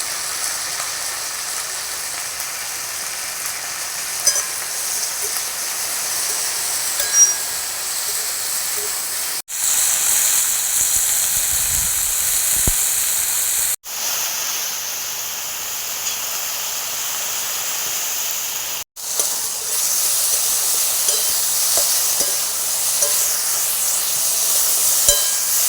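Okra (bhindi) frying in hot oil for a Bengali bhindi posto dish, giving a loud, continuous hiss and sizzle that runs on and on, broken only by a few abrupt cuts.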